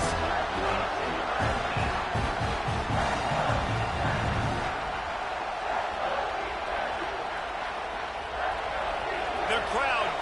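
Stadium crowd noise from an NCAA 26 college football video game simulation of Clemson Tigers vs Iowa State Cyclones, a steady loud roar of fans behind a red-zone defensive stand, running continuously under commentary.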